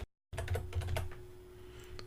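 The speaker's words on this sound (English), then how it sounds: "And I'm going to start typing in testimonial." Someone types on a computer keyboard in a quick burst of close, soft key clicks that slows to a few scattered taps. There is no talk.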